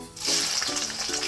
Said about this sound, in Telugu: ఇప్పుడు ఆయిల్ వేడెక్కింది కదా, ఫస్ట్ పచ్చిమిర్చి వేసుకోవాలి